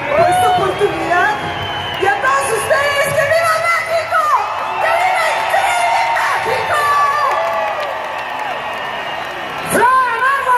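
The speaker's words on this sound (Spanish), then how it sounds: "¡Aplausos!" Concert crowd at an El Tri show cheering, whooping and yelling, a loud, sustained roar mixed with shouted voices and talk over it.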